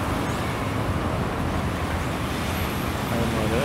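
A bus arrives along a road during morning traffic, a steady, loud rumble of engine and tyres that builds slightly toward the end, with no clear speech over it.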